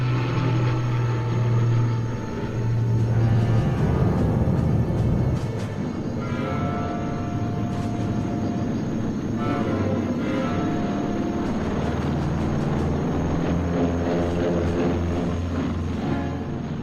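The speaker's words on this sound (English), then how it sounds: "Each C-47 towed 2 gliders." C-47 transport aircraft taking off while towing two gliders each make a continuous, heavy engine drone that swells and shifts in pitch as they move, with no one talking.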